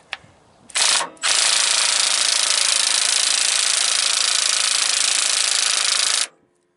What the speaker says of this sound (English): Now I gotta tighten up the slack adjuster. I'm gonna use a power wrench on it